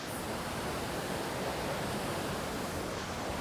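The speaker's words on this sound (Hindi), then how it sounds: "डैम खुलते पानी का लहर थोड़ी तेज आ रही है" A river surges hard after the upstream dam is opened near Kasol, its water rushing in a steady, dense roar that fills the whole stretch with no pauses.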